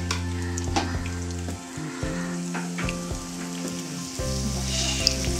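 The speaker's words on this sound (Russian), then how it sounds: "Вот так вот оно будет у нас жарится" Steady crackling sizzle of a chicken breast cutlet frying in a pan, close and continuous, with occasional soft taps and pops.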